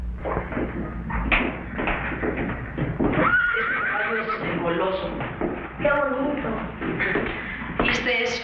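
Close, loud horse whinnies rise repeatedly over hoof clip-clops and shuffling, with people talking around the horse in a 1983 film scene.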